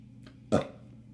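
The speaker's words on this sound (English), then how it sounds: "Hold on, I'm about to burp." A single short burp, close and fairly loud, with a faint breath just before it.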